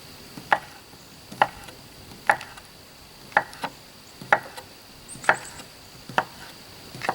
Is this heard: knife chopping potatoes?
yes